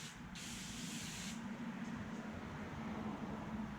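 Cleaner is sprayed onto a car windshield in two short hissing bursts, faint and close, over a steady low background hum.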